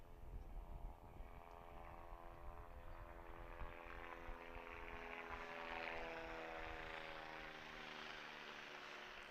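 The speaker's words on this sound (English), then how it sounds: "Now there's a helicopter. Gonna fly directly over me." Helicopter passing directly overhead during an outdoor high school varsity soccer game, a faint distant rotor drone that swells gradually, peaks near the middle and lingers steadily with no talk.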